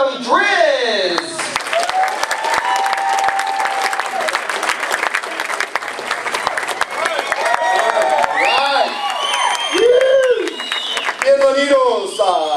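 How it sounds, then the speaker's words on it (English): A comedy club crowd applauds and cheers loudly to welcome the comedian DRIZZ on stage, sustained clapping running throughout while an amplified voice talks over it. "with a big round of applause, help me welcome DRIZZ"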